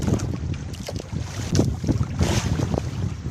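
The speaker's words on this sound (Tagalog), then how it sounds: "grabe ang lakas ng hangin talaga" Strong wind buffets the microphone with heavy, gusty rumbling, continuous and loud, alongside water sloshing in big waves around a small fishing boat.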